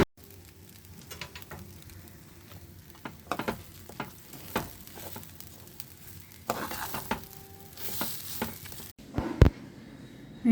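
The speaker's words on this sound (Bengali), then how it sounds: "এখানে ঘিয়ের মধ্যে একটু আদা কুচি, তেজপাতা আর এখানে কাজু কিশমিশ জাস্ট একটু হালকা ফ্রাই করে নিয়ে" Ginger, bay leaf, cashews and raisins fry lightly in ghee for pulao, a soft steady sizzle broken by clinks and scrapes of stirring, growing a little louder toward the end.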